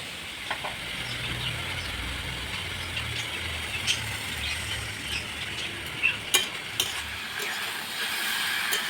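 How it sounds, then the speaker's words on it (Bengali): Spices, potatoes and a splash of water being stirred in a pan for jackfruit biryani, with a soft, steady sizzle and occasional sharp spoon scrapes and clicks against the pan over a low background hum. "এখন হালকা একটু জল দিয়ে কষিয়ে নেব।"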